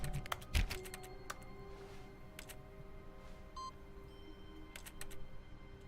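A computer mouse is clicked during The Stanley Parable. Close, crisp clicks come in quick bunches, then sparse singles with pauses, over a faint game hum and a few soft beeps.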